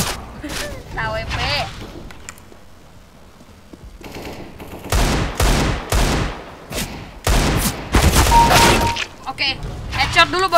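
Sharp gunshot bursts from an AWP sniper rifle and other weapons in a Counter-Strike: Global Offensive match, several loud cracks landing in the second half amid game noise, with someone talking over parts of it.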